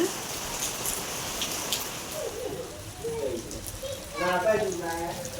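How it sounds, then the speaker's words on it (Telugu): Steady light rain patters in the background while a person talks briefly over it, and birds chirp faintly at times. "వర్షం అసలు తగ్గట్లా"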